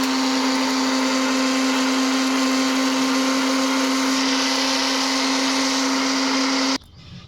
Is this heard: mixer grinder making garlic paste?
yes